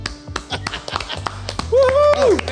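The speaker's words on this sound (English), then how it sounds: "we're clapping now" Hosts clap their hands at the end of a podcast episode: scattered, sharp claps in an uneven rhythm, mixed with voices talking and a brief sung or drawn-out vocal sound.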